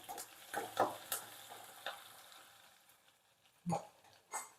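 Chopped garlic tossed into crackling cumin seeds in a pan for a village-style pigeon pea dish, giving a faint, low sizzle broken by a few sharp stirring clatters and scrapes.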